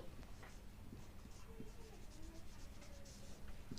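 Pen strokes as an answer about money is written out by hand on a class 5 decimals word problem, a faint, continuous scratching close by under a low room hiss.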